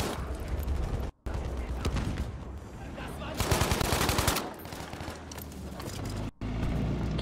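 Gunfire in the shooter game Battlefield V, with dense bursts of rapid shots and louder volleys midway, broken by two brief silent gaps, heavy and close throughout.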